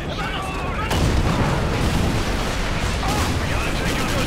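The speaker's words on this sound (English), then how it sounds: "we got a machine gun" Machine gun fire in Call of Duty Ghosts roars as a dense, continuous, loud rattle mixed with booming blasts, filling the whole stretch without pause.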